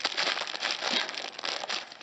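Close crinkling and crackling of stiff plastic blister packaging being cut open with scissors continues steadily for a couple of seconds, with no voices.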